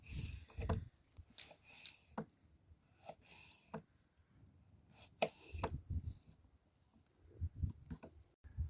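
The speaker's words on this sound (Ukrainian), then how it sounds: "Тепер нарізаю, достаємо сало. Нарізаємо сальце." Quiet, irregular knife chops on a board while slicing salo (cured pork fat), sharp taps spaced out with short pauses and some soft low thuds between them.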